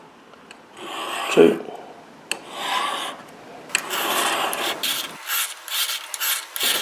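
An old Buck pocket knife is drawn in rasping strokes along the rods of a Lansky turn box sharpener, with several scraping passes separated by short pauses while a voice speaks briefly.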